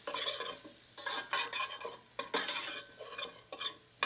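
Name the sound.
stirring flour into vegetables in a pan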